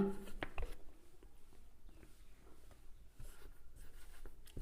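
Quiet, scratchy writing of numbers during a Class 7 maths lesson on ratios, with soft, sparse pen strokes and light taps, faint and close, without speech.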